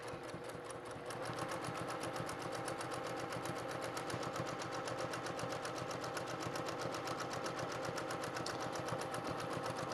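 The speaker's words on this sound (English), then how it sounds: "I'm gonna let the machine do the work as it sews through." Sewing machine stitching through a T-shirt quilt, a rapid, steady mechanical chatter that starts after a brief pause and runs continuously at a medium pace, close and clear with no talk.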